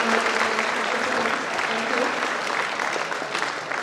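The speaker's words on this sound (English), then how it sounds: "A big round of applause for all the" Audience at an event applauding prize winners, sustained dense clapping filling the room at steady loudness throughout, with some crowd murmur underneath.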